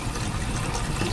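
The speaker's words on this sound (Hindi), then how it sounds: "मैं इसमें थोड़ा सा पानी डालूंगी" Water being poured into milk in a metal pot while mixing gulab jamun dough, a soft continuous splashing trickle heard close up.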